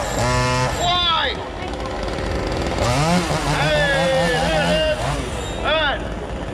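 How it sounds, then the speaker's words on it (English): A real chainsaw revs and whines in bursts during a street juggling show at Darling Harbour in Sydney, loud and close, with a crowd murmuring and voices talking over it. "Now this is a real chainsaw,"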